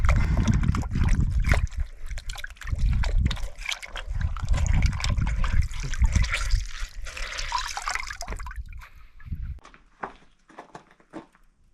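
Water running and splashing during hand laundry outdoors at a rural homestead, a loud busy gush with sloshing and dripping that thins out into scattered trickles and drips near the end, with no talking.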